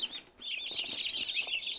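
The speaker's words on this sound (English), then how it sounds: "So these are broad-breasted white turkeys" Continuous high-pitched peeping and chirping from several broad-breasted white turkey poults close by in a brooder, a busy chorus of overlapping cheeps with no talking.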